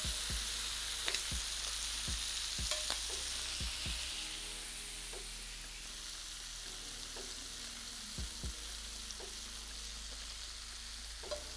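Shrimp sizzling and frying steadily in a pan, a continuous close hiss with occasional sharp pops and crackles, fading slightly in intensity midway through, with no talking.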